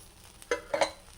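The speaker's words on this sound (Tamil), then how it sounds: "நம்ம உப்பு எடுத்து வச்சோம் இல்லையா, அதை போட்டு ஃப்ரை பண்ணிக்கோங்க" Dry salt being stirred and fried in a pan while making poondu podi, a garlic powder, giving a few short, soft scraping and crackling bursts close up against a quiet background.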